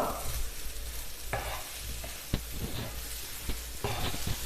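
A spoon stirs sugar, coconut and ripe banana pieces in a hot pan, making close scraping and clattering strokes at an irregular pace over a steady, low sizzle.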